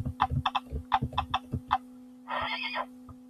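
A horse whinnies briefly after a run of rhythmic thumping, heard close and fairly clear against a steady low hum.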